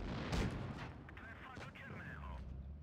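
A Škoda T 50 tank cannon fires in WoT Blitz, one booming shot early on followed by rumbling game effects and a speaking voice.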